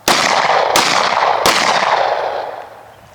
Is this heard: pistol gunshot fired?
yes